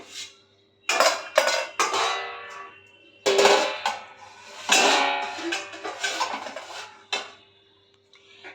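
Lids and pots clanking as cooked curries are covered in a home kitchen, with a cumin-paste gravy among them: several loud, close metallic clangs and scrapes in irregular bursts, no talk.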